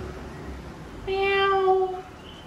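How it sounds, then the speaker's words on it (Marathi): A single clear cat meow, drawn out for about a second, close by against a quiet background. "मांजर आली मांजर म्याव म्याव मांजर आली"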